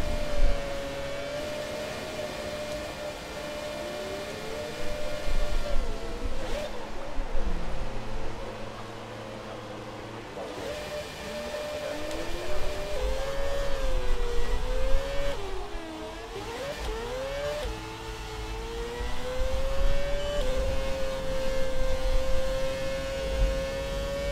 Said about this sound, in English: I'll just shut up for a bit so you guys can hear the engine, which sounds pretty goddamn awesome